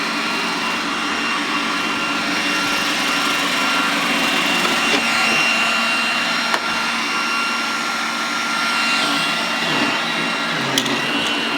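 A Roomba robot vacuum hums and whirs steadily and loudly up close as it cleans the floor, with a few faint clicks and bumps along the way.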